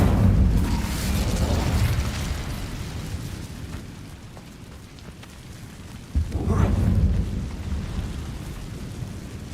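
An Incendio fire spell going off in Hogwarts Legacy, a loud whooshing burst followed by roaring, rumbling flame over a dense, noisy game soundscape.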